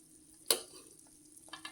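Herbal hair oil heating in a pan gives one sharp, close crackling pop, followed by faint scattered sizzles and small spits in an otherwise quiet setting.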